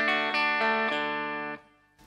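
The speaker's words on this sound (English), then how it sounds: "at that point I'm getting a thin, almost single coily sound" A thin, bright clean electric guitar tone with an almost single-coil character, a few strummed chords ringing in quick succession, then sustaining and cut off, with no talking.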